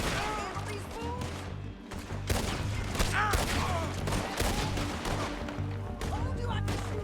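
Gunfight in Red Dead Redemption 2, with rapid repeated gunshots cracking close and loud over several seconds amid a continuous battle din, while characters talk in between the shots.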